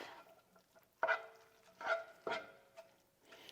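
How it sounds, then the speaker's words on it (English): Hot ground beef and noodle casserole mixture with sour cream and cream cheese being stirred: a few soft, close scraping and squelching strokes, about four distinct pushes, in an otherwise quiet kitchen. "We're going to just stir this all up."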